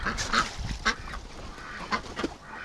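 Domestic ducks in a pen with their water tubs on a freezing winter day give several scattered quacks and honks over a steady low background, close by, with no talking.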